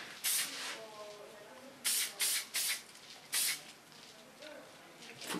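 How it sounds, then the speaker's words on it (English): Hairspray is sprayed onto a short pixie haircut in several loud, close hissing bursts, one early and a cluster of four later, with soft voices and quiet handling sounds between them. "Need a little bit hairspray."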